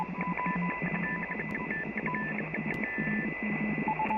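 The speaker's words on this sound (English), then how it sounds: "this is what CW sounds like when you're on the air" Morse code CW on a ham radio band with several stations sending at different speeds, overlapping steady beeping tones over a constant hiss of receiver noise, continuous throughout, no talking.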